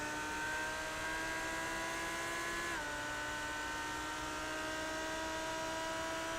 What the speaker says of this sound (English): You can hear how much he has to modulate the throttle just trying to get the car to turn properly.